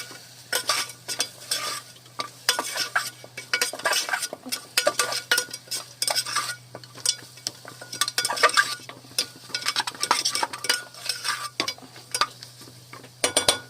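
Goat trotters and mutton stirred in a cooking pot for soup, with a metal spoon scraping and clinking in repeated irregular strokes over a faint sizzle and steady low hum.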